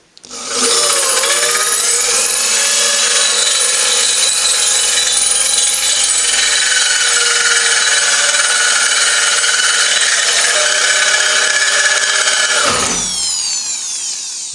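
A power drill grinds through 10mm thick stainless steel plate for an outboard motor steering plate, a loud, continuous high-pitched screech that holds for over ten seconds before the bit winds down.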